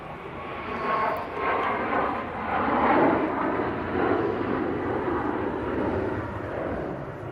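A jet airliner taking off from a runway intersection at Manchester Airport gives a broad, steady roar that swells and holds at moderate distance, with no talk.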